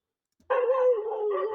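A dog barks and howls in one drawn-out, tonal outburst lasting about a second, fairly close and loud, with no talk over it.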